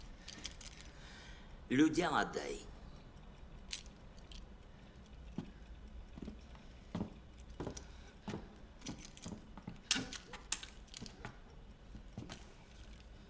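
Keys jangle as they are handed over during a tense indoor exchange, with a loud burst of metallic clinking early on, then softer scattered clicks and rustles while someone speaks briefly.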